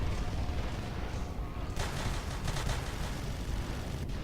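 In the Natural Selection video game, a heavy machine gun fires in dense, rapid rattling bursts amid loud, noisy game action, with no talking.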